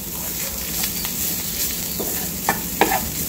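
A vegetable mixture for veg momos being stir-fried in a pan, with a steady sizzle and a few sharp scraping stirs near the end.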